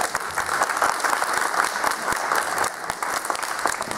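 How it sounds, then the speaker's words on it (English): Audience applause at a mayoral press conference held at the Jewish Community Center of Staten Island, a loud, dense round of clapping from a gathered crowd that continues steadily throughout. "Home field, you always get a big round of applause."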